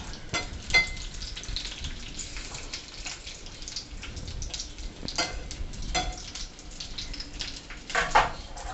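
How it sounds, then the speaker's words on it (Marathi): Green chillies stuffed with coconut fry in a pan, giving a soft, continuous crackle with scattered spits and a few louder clatters along the way; no talking. "आता आपण त्यात घालूयात खोबरं भरलेली मिरची।"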